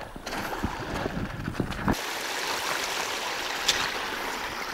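A spring trickles and flows toward the sea on a winter shoreline at Mols Hoved, Denmark, giving a steady, close rushing-water wash with a few brief splashes near the start.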